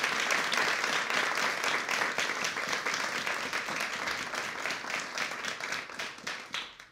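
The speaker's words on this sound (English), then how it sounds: "Can we have a round of applause for the scientists," An audience applauds scientists at a 2017 total solar eclipse science briefing held in a museum, with steady, dense clapping throughout that thins slightly toward the end.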